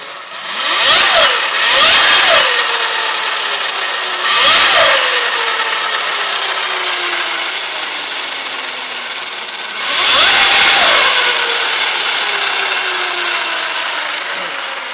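An Alta Motors electric motocross motorcycle's motor spins up the rear wheel on a stand, giving several loud whirring bursts, each followed by a long falling whine as the wheel winds down.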